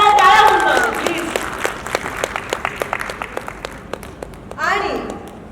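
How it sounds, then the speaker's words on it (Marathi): A studio crowd at a reality-show launch event bursts into applause, loud at first then fading to scattered claps before a fresh swell, with a voice speaking over it. "जोरदार टाळ्या होऊन प्लीज"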